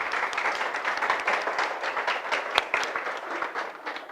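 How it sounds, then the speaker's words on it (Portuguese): Applause from an audience at a Portuguese-language spiritual lecture, a moderately loud crackling patter of many hands clapping steadily for about four seconds. "Palmas, que isso aqui merece palmas."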